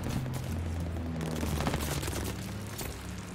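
Rapid gunfire and booming explosions from Call of Duty: Vanguard multiplayer rattle in dense, continuous bursts with a heavy low rumble underneath, fairly loud, without voices.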